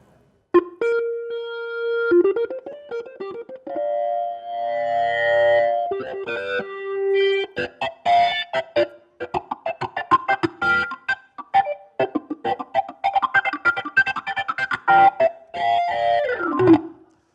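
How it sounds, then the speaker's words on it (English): A Hammond B-3X organ plays chords and runs with a sweeping wah filter, its tone opening and closing rhythmically, growing busier and funkier toward the end. "Let's go back to the wah-wah."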